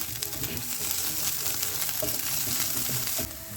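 Steady, dense sizzling of beets frying in a pan, with occasional stirring clinks, continuous and close throughout.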